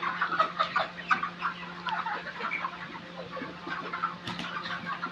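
Broiler chickens at a poultry farm cluck and chirp continuously as a dense flock, with a steady low hum of farm equipment beneath the birds.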